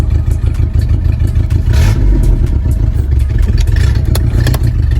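A car with an exhaust damaged after snagging on a gate railing runs close by, giving a loud, rough, rumbling drone with sputtering clatter and uneven pulses.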